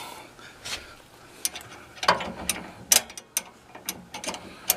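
Quick bursts of ratcheting clicks come from loosening an overtightened riving knife nut on a Ridgid R4512 table saw, with crisp metallic ticks close by and brief gaps between them.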